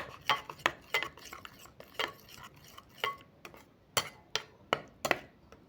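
A spoon stirs a besan face pack mixed with a few drops of lemon in a small bowl, producing a regular series of soft clinks and scrapes, fairly close and quiet with no talking.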